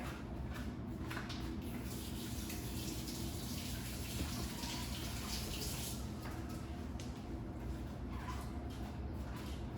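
Running kitchen tap water gushes steadily as a utensil is rinsed while preparing Haitian epis sauce, a constant moderate splashing rush with no talking.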